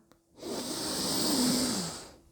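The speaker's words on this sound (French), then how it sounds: "On inspire par le nez en pliant le bras." A slow, deep breath drawn in through the nose during an anger-management breathing exercise, a soft airy hiss that swells over about two seconds and fades, heard alone up close.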